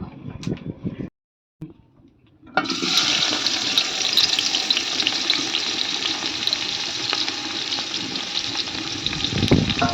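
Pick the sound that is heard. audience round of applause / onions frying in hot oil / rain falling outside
onions frying in hot oil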